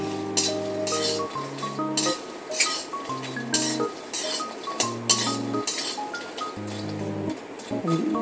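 Peanuts roasting in a pan, stirred with a metal spoon, giving steady bright clinks and scraping taps at an irregular rhythm, close and clear over faint background music, no talking.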